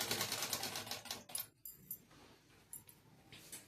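A sewing machine stitches katori blouse fabric in quick, soft bursts, a brief run at the start and then scattered short stitches, fairly faint and close.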